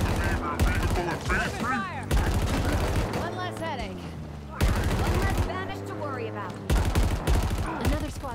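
Bursts of gunfire in the Halo Infinite PC campaign, fighting across its open world, crackling in repeated volleys over several seconds beneath loud overlapping voices.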